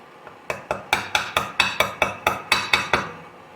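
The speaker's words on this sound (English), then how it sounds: "Tap her in. Got brass hammer. Gently tap it." A brass hammer taps a crank bearing into place: about a dozen sharp metallic knocks in a steady, even rhythm, close up and loud, with no talking.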